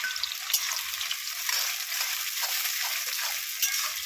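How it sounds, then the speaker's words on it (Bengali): Onions frying in a pot greased with ghee, a steady close hiss of sizzling oil with light stirring clicks, continuous and fairly loud with no talking. "এখন এই পেঁয়াজ দিলাম, পেঁয়াজটাকে ভেজে নেবো।"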